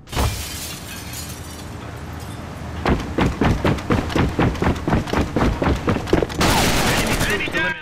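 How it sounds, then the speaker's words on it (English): Bursts of Galil assault rifle fire in a military shooter video game, loud and close, with a steady run of sharp rapid shots after an opening stretch of noisy game ambience. "Now I'm going to test out my Galil Ma."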